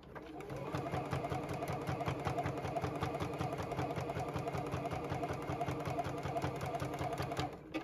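A JUKI sewing machine stitches a bucket hat lining piece in a steady, rapid needle rhythm, close by and running without pause for several seconds before stopping.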